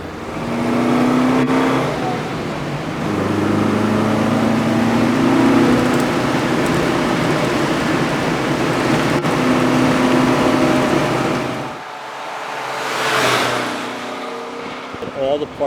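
An Alfa Romeo Spider sports car drives through curves, its engine droning and rising in revs, heard from inside with someone talking over it.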